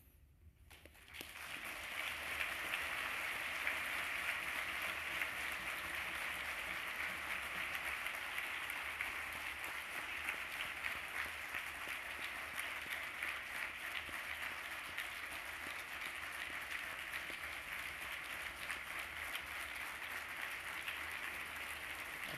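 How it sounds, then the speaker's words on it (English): Audience applause at an opening ceremony, starting from near silence and swelling within a couple of seconds into a long, even wash of many hands clapping that carries on steadily. "giving a big round of applause to Gwen"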